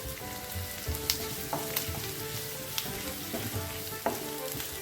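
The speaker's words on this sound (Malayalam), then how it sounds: "ഇനി ഒന്ന് നല്ലതുപോലെ ഒന്ന് വഴറ്റിയെടുക്കാം കേട്ടോ" Crushed garlic and ginger sauté in a hot pan with a steady, close sizzle, broken by scattered scrapes and clicks of stirring throughout.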